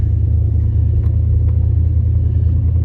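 A 1987 Chevrolet Monte Carlo Aero Coupe engine running, a loud, steady low rumble close by with an even idle throb and no talking.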